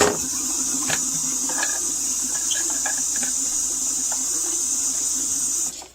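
A steady rush of running water rinses hamster cage items under a tap, loud and close, with a few faint clatters of plastic pieces before the flow cuts off at the end.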